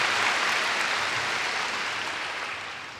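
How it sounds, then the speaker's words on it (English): Graduation ceremony audience at a high school applauding together, a dense steady wash of clapping that starts full and slowly thins over three seconds. "Let's give all of them a big round of applause."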